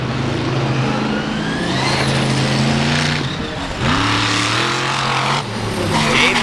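An XDP truck races at the 4-Wheel Jamboree Nationals in Indianapolis, its engine revving loud and close with rising and falling pitch sweeps and gear changes, amid crowd and track noise.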